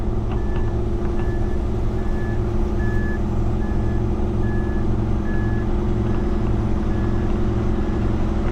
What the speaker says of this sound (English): Getting the concrete truck backed in.